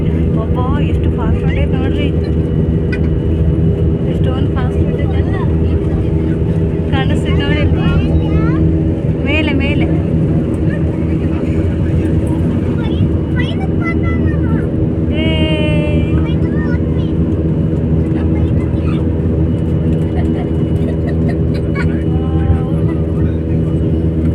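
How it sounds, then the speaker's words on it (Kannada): Inside the cabin of a passenger airplane taking off from Bengaluru and climbing, a loud steady engine drone with a sustained low hum fills the space, and faint voices occasionally sound beneath it. "ಹಾರಾಕತ್ತಿತ್ತು ಫ್ಲೈಟ್ ಹಾರಾಕತ್ತಿತ್ತು ಮೇಲೆ"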